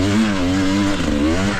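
An enduro motorcycle engine revs hard and steady on a hill climb during a hard enduro race, a loud, close, sustained drone with slight pitch wavering and no voices.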